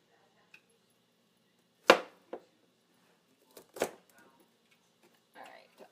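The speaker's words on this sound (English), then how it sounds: "I try to cut my broccoli not too big so that they cook pretty even" A knife chops broccoli on a cutting board in a home kitchen, giving a few sharp, separate thunks with quiet pauses between them.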